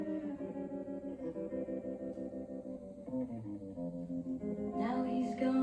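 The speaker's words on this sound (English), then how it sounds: "That reverb is incredible." A played song recording drenched in heavy reverb, with sustained, shimmering tones and a voice entering near the end, the tail of each note washing into a spacious, echoing wash at moderate volume.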